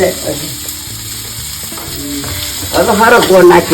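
Hot oil sizzles steadily, then a louder crackling burst as tempering spices hit the pan near the end over a cooked drumstick dish, with a spoon clinking now and then.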